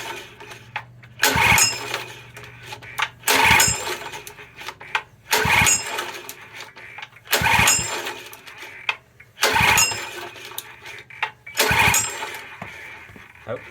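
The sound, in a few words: pressure washer sized petrol engine being started, failing to run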